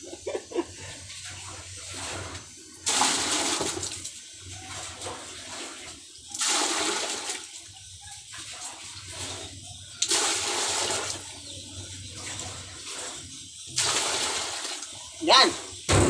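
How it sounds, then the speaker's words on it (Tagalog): Water from a drum is poured over someone bathing, arriving as four separate loud gushing splashes spaced a few seconds apart, while a person talks between them. "Simutin natin ang laman ng drum."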